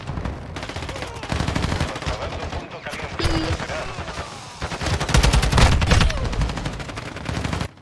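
A loud Call of Duty MWII gunfight with dense bursts of automatic rifle fire and scattered single shots, rising and falling in intensity throughout, crackling close by.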